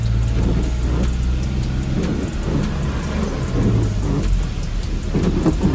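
Steady rain falls during a drive along a narrow, single-lane hilly road in Himachal, with a car's low engine rumble underneath and occasional deep thunder-like booms, continuous and fairly loud with no talk.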